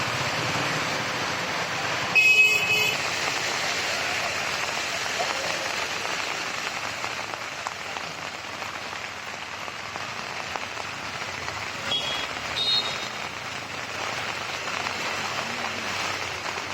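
Heavy rain falls over waterlogged streets in Nalasopara, Palghar, as a steady, moderate hiss with a brief louder clatter near the start and faint background activity beneath.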